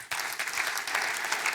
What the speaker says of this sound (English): round of applause, thank you very much